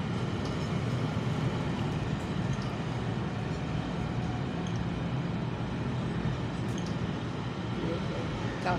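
A long train rumbles past at a steady level, a continuous broad roar of railway cars rolling by for the whole stretch with no clear break.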